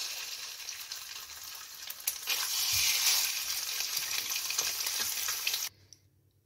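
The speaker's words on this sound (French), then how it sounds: "vous remettez votre poêle avec de l'huile de pépins de raisin et vous allez cuire votre poisson des deux côtés" A hake fillet sears in hot grapeseed oil in a pan, giving a loud, steady, close sizzle and crackle that holds for several seconds, then cuts off abruptly near the end.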